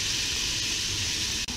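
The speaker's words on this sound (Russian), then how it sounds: "И лук нам нужно обжарить на растительном масле." Onion frying in vegetable oil in a heated pan gives a steady, close sizzling hiss that runs unbroken with no talk, apart from a brief dip near the end.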